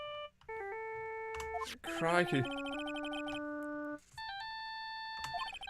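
A chiptune-style phone ringtone from the game Phoenix Wright: Ace Attorney plays as repeating electronic beeping tones, with a person's voice briefly breaking in partway through.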